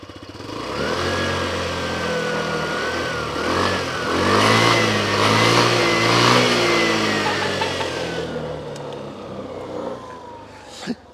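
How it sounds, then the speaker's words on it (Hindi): A Hero Xoom 160 maxi scooter engine idles, then revs up in a sustained, fairly loud rising and falling drone close to the listener before settling back near the end. "स्कूटर की आवाज़ भी सुनाने लगा हूँ आजकल मैं"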